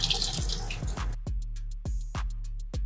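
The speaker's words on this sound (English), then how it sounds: "You're just supposed to wash it with water." Tap water runs hard onto boiled pasta in a sink, a steady close splashing stream with drips, then the flow stops and starts in short bursts as the noodles are rinsed.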